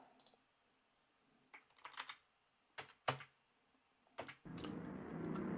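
Scattered bursts of keyboard typing, a few quick keystroke clusters at close range, then a steady hiss of background noise takes over near the end.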